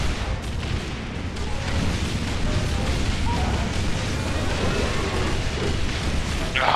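Rumbling bomb blasts in the co-op game Ratchet & Clank: All 4 One, set in the Deadgrove level, forming a loud sustained barrage of booms and bursts with no pauses and no talk.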